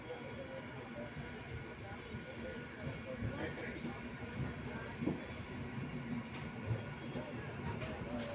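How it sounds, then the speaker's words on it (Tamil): A MEMU express train from Chennai Egmore to Pondicherry rolls along steadily, a low rumble and rattle heard from inside the carriage, with faint voices mixed in. "ட்ரெயின் எடுக்கட்டும், போகலாம்."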